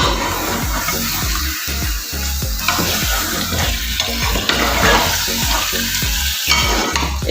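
Chicken leg pieces, scored with a cut each, fry in hot oil for Afghani karahi, a loud bubbling, crackling sizzle with repeated stirring and spatula scrapes, close and without speech.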